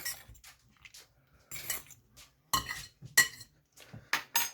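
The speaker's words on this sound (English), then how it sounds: "I'm just going to give that a mix" Cooked pasta shells are stirred in a metal pot with a spoon, making irregular scraping clinks and soft wet stirring noises, close by and moderately quiet.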